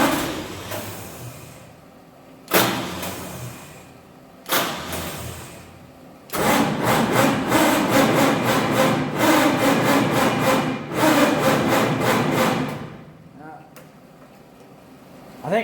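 A 1948 Chevy truck engine, not run in 30 years and with diesel fuel in the oil pan, cranks on a weak battery: two short starter bursts, then a long chugging cranking run that stops, close and loud.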